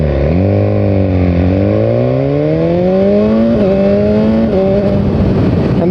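A 2017 BMW S1000R motorcycle accelerating hard through the gears with a quick shifter, its loud, close engine note rising in pitch in repeated sweeps and dipping briefly at each upshift.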